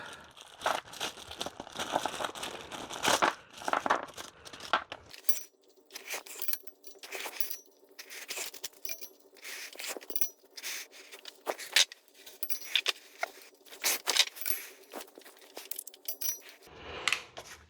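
New clutch bolts for a BMW E46 manual swap clink and jingle as they are handled, with bursts of metallic rattling and crinkling close by and no talk.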